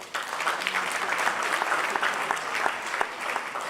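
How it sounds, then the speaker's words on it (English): A large audience at an awards ceremony breaks into sustained applause welcoming Suresh Prabhu, a dense, steady roar of clapping that holds at an even level throughout. "Please welcome Mr. Suresh Prabhu with a huge round of applause."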